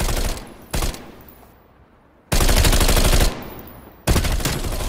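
Submachine gun covering fire in the video game Call of Duty Cold War: loud, sustained bursts of rapid automatic gunfire, stopping briefly and then returning in several long, close volleys.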